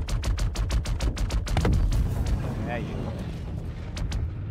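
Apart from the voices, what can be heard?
gunfire destroying a buggy in video game Star Citizen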